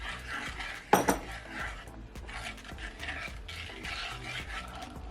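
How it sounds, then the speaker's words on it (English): Seasoned chicken is stirred in a metal pot, opening with a sharp clang of utensil against the pot, followed by repeated scraping and soft clattering close by. "Give it a good stir."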